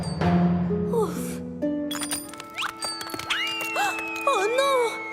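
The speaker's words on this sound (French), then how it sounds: "Oh non! La cloche de Percy!" In a Thomas and Friends cartoon, the lucky bell belonging to Percy falls with clanging, ringing hits and rattles amid scored music and sliding sound effects, while a character's voice cries out briefly.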